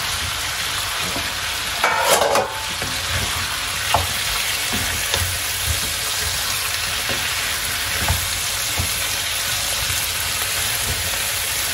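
Wild forest mushrooms are tossed into a hot pan for a gizzard and mushroom sauté, setting off a loud, steady sizzle of frying with a brief burst as they land and occasional utensil scrapes afterward.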